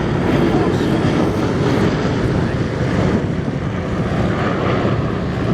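A B-17 bomber flies past at an air show, its piston-engine propeller drone a steady, loud, broadband roar that holds throughout without a break.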